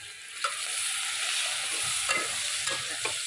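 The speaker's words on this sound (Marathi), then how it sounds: "आता टाकूया टोमॅटो." Tomatoes sizzle as they drop into frying masala in a pan for masala rice, with steady close frying hiss, a few stirring scrapes and soft clunks of the spoon against the pan.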